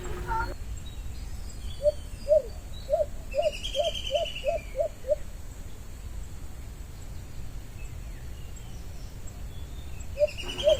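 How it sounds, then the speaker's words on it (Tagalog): A bird calling outdoors, a quick series of about eight clear repeated notes in a burst, then quiet background hiss and a final pair of notes, fairly distinct over faint ambient noise. "Pero ang huni niya malakas pa rin ano,"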